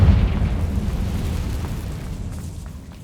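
Confringo fire spell blast in Hogwarts Legacy: a deep explosive boom that opens strong, then a low rumbling roar slowly fading, close and loud, with no voices.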